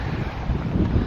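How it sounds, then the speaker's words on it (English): Wind gusts buffet the microphone in a loud, continuous low rumble at Chester Zoo, swelling slightly toward the end. "It's windy."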